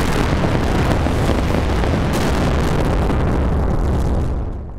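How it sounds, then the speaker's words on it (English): A massive, sustained rock blast through a mountainside in Norway roars continuously with deep rumbling and crackling debris, loud and close, fading away at the end. "Engineers launched three explosions a day for 18 months."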